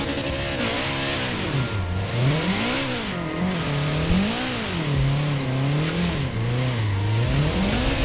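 A Subaru with a standard boxer engine in Forza Horizon 4 revs and drops repeatedly, its pitch sweeping up and down in loud, close waves over steady engine drone, with faint tire noise.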